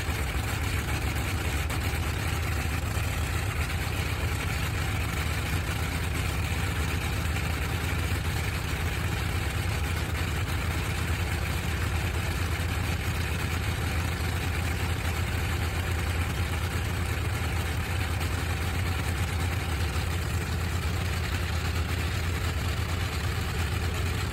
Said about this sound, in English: accompanied by the rhythmic pulsing of its 14 cylinders firing in sequence